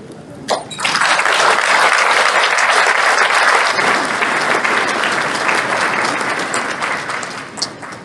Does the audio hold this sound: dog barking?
no